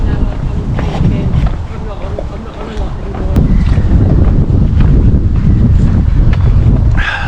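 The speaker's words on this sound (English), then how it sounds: "a bit windy today down on the quayside" Gusty wind buffets the microphone on a quayside, a steady broadband roar that strengthens midway and stays loud to the end, with indistinct talk partly buried beneath it.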